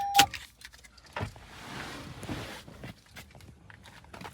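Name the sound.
car keys jangling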